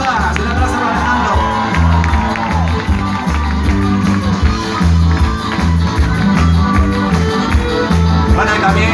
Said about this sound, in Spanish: un aplauso para Alejandro